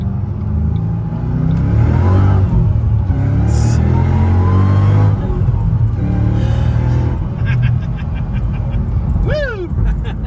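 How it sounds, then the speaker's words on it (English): A supercharged car engine pulls hard and loud under acceleration, with a rising supercharger whine over a deep rumbling exhaust. Brief vocal sounds break in near the end. "this one, it's spinning the supercharger much faster, so you hear it a lot more"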